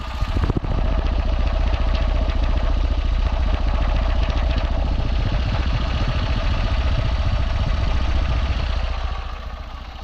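A Tata Nano's small rear engine idles close by, a steady rattling chug that runs evenly throughout and fades slightly at the end.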